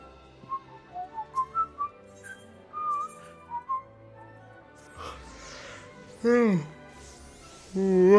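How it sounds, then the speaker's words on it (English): A person whistles a short, bouncy tune in quick notes, followed by a sliding whistle, while voices come in near the end. "I'm doing that because I'm whistling."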